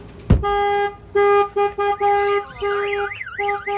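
A Ram ProMaster van's alarm blares nearby after an impact trigger: a sharp bang, then repeated honking blasts followed by a warbling siren tone cycling up and down.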